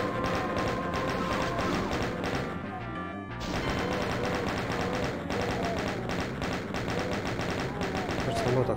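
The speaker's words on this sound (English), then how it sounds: "A lot of chain gunners up there." Chaingunners firing chainguns in Doom II: Icarus, Alien Vanguard, a dense, continuous rattle of rapid gunfire and crashing impacts, loud and close, with a brief pause midway before the barrage resumes.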